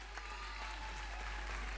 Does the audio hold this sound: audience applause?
yes